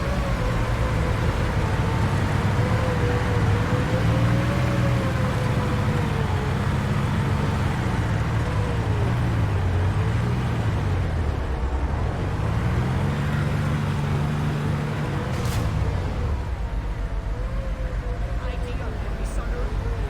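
Tank engine from Planetside 2 drones steadily throughout, a loud low rumble that rises and falls in pitch as the vehicle accelerates and slows, with a voice talking over it the whole time.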